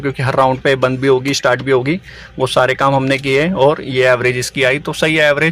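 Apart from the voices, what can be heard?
None of the usual background noises is heard.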